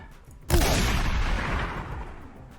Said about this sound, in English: We'll just start shotgunning.